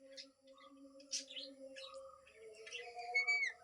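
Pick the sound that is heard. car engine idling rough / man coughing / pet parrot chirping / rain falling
pet parrot chirping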